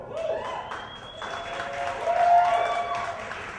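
Audience at a comedy variety show applauding, a dense burst of clapping from a crowd, steady throughout and swelling slightly near the middle.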